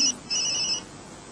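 A phone rings indoors in two short electronic chirps, the second longer, loud and close, then cuts off into quiet room tone.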